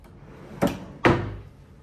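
Hotel room drawers in a Hyatt Regency guest room being handled, two quick wooden knocks about half a second apart, close and fairly loud against a quiet room.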